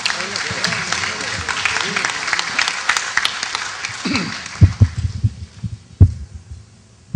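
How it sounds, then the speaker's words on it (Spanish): An audience gives a speaker a round of applause at a centenary event, the clapping dense at first and then thinning to a few scattered claps, with talk over it. "Un fuerte aplauso para el doctor José"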